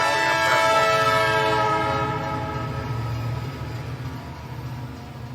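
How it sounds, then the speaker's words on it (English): A New York City subway F train runs loud and steady, its horn-like harmonic tones sounding clearly over a continuous rumble that slowly fades. "Fantastic F train making express stops in Queens."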